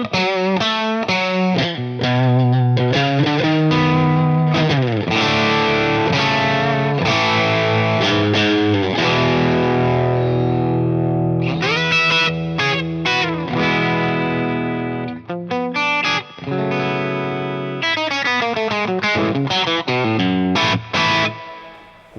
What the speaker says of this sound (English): It's a mellower lead sound, isn't it, than the Rosewood? Even on the bridge pickup,